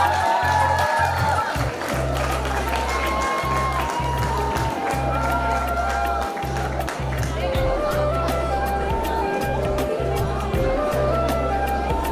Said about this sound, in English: Let us all give them a huge round of applause